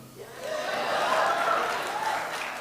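Applause at the 2025 State of the City event in Durham, a steady swell of clapping that rises and holds for a few seconds, with a faint voice underneath.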